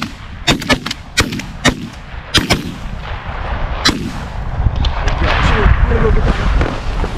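Shotgun blasts ring out while hunting, a series of sharp, loud reports spaced irregularly over the first few seconds, followed by windy rumble and excited voices nearby.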